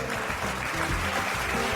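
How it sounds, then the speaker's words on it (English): Applause from the audience at a televised awards ceremony, a dense, loud wash of clapping over a backdrop of rhythmic stage music with deep bass beats. "A huge round of applause for her."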